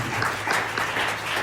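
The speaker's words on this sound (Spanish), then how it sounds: "Den un fuerte aplauso a la Trinidad, Padre, Hijo y su Santo Espíritu." Church congregation applauding together during a Spanish-language sermon, a steady wash of dense clapping that holds evenly for the whole stretch with no speech over it.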